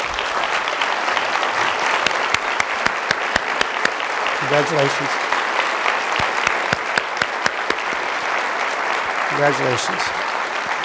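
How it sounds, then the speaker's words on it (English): Steady applause from an audience honouring award winners at a university health forum, continuous clapping throughout with a voice briefly speaking over it twice. "We want to give you a round of applause."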